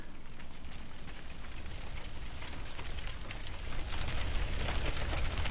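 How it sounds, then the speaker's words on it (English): A fire burning in the Dragon Age: Inquisition video game: a steady, loud crackling roar with dense hiss, swelling stronger toward the end, heard alone without talk. "Can I put this fire out?"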